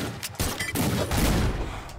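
Cannonballs firing in the video game Brawlhalla, a rapid run of loud booming blasts packed closely together with no talk over them.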